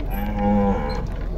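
Cattle at a livestock fair in Tabira, Pernambuco, being unloaded from a truck; one loud, sustained low moo lasts about a second over steady background noise.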